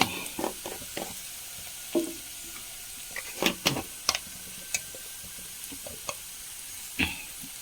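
Tomatoes and onions sautéing in oil with turmeric and chilli powder, a soft steady sizzle broken by irregular scraping stirs of a spoon against the pan, close and moderately quiet.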